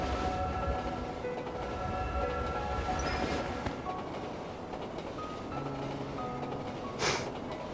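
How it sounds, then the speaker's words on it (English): A video-game train departing rumbles and clanks steadily with a droning hum, a brief higher burst near the end, no voices. "Hold on tight. The train is about to leave."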